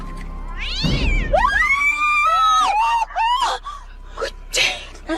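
A cat cries out after being struck by a car: a sudden close thump-like burst, then long, wavering, rising-and-falling meows and a yowl, loud and close, with a few shorter cries trailing off.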